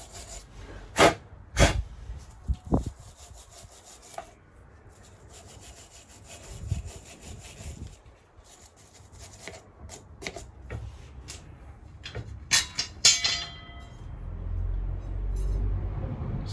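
An abrasive pad scrubs corrosion off the rear brake disc of a Yamaha FJ1100 motorcycle, making close rasping back-and-forth strokes in irregular bursts with a few sharp knocks between them.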